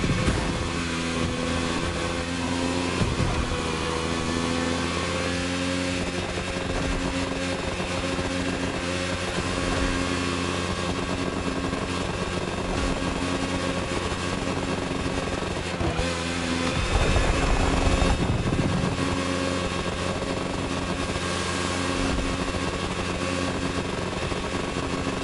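A video game car engine holds a loud, steady high-revving drone with layered harmonic tones, briefly surging louder near the end.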